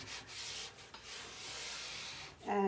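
Liming wax being rubbed by hand into the open grain of oak, a steady close-up scrubbing friction that runs almost continuously with a brief pause, then a louder scuff at the end.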